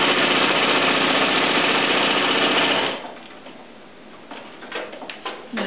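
A sewing machine stitches quilt binding with a loud, steady mechanical chatter for about three seconds, then stops, leaving faint clicks and handling noises.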